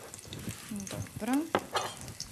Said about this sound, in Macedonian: Одма почнува да пржи. Значи не треба многу да се чека, на загреано масло, малку лукот